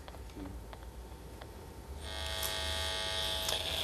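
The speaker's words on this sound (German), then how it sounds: "der Lautsprecher gibt also diese Störfelder wieder. Also das Display da oben macht ganz schön Krach" Electromagnetic interference from a display picked up by a receiver and played through its speaker, a steady electric buzz that swells into a louder, brighter whine halfway through and holds.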